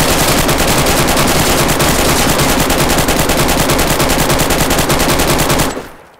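Sustained automatic gunfire from several shooters in the survival game DayZ: a rapid, loud, continuous rattle of shots for over five seconds that cuts off abruptly near the end.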